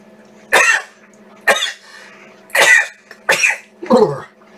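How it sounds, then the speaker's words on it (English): Five sharp, explosive sneezes burst out at roughly even intervals, each a short loud blast close to the listener, separated by near silence. "It's a sneeze."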